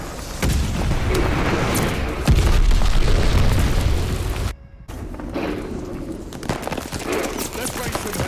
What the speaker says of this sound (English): Enemy's got a glide bombing coming.